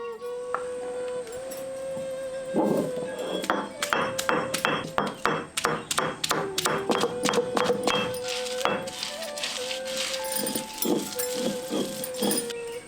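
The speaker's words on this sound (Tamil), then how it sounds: "ஐம்பது கிராம் இஞ்சி பூண்டை அம்மியில வச்சு அரைச்சு எடுத்துக்கலாம்." Fifty grams of ginger and garlic crushed on a traditional flat stone grinder (ammi), giving a run of sharp stone-on-stone knocks in quick uneven bursts over a steady high tonal hum, with no talking.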